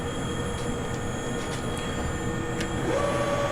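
Weiler E30 lathe moving under jog wheel control, a steady mechanical whir and hum with faint high whines and a rising tone near the end, continuous and without speech.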